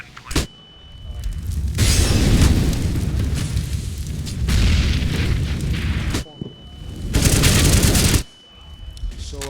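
Gunfire exchanges in a competitive shooter video game match, with a bomb planted, come as dense bursts of shots and booms in two long loud stretches separated by quieter gaps, with commentary voices underneath.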